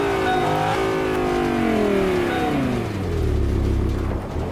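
A car engine revs up inside the Fortnite video game, a loud steady whir rising and falling in pitch over several seconds before settling into a lower rumble, with no talk over it.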